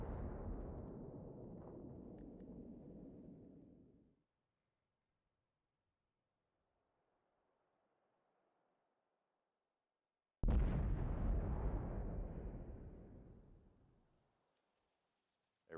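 Tank cannon fire and explosions from a video game battle: two heavy booming blasts several seconds apart, each decaying over a few seconds, with near silence between them.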